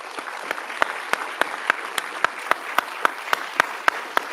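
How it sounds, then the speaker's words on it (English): A small audience claps for Federal Reserve Governor Waller, sharp separate handclaps in a fairly regular rhythm rather than a dense roar, continuing steadily with no talking. "let's all give Governor Waller one more round of applause"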